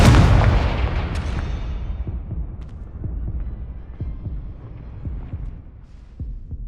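An Incendio fire spell bursts in Hogwarts Legacy: a heavy, loud blast opens and decays over a couple of seconds, followed by a run of soft, low, regular thumps.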